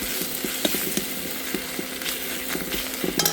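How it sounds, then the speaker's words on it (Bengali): Potato curry with turmeric powder sizzles in a frying pan as it is stirred, a steady close frying hiss broken by regular scraping clicks of the spoon against the pan. "হলুদ গুঁড়ো দিলাম, দিয়ে আবার নাড়াচাড়া করবো।"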